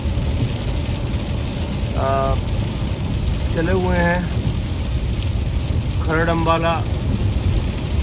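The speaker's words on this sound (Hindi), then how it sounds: "आप देख सकते हैं कि बहुत तेज़ बारिश हो रही है" Steady heavy rain hisses throughout at about 3 a.m. in Shangarh, Sainj Valley, Himalayas, with someone talking over it.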